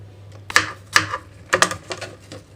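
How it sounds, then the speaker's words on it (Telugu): A knife chops vegetables into small pieces on a cutting board, giving a run of crisp, close clicking strikes in an uneven rhythm of about six cuts. "చిన్న సైజు ముక్కలుగా కట్ చేస్తున్నాను నేను ఇక్కడ"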